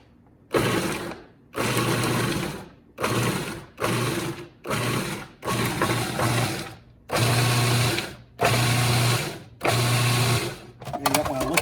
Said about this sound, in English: I'm going to go ahead and use the food processor instead to make this go a lot faster and easier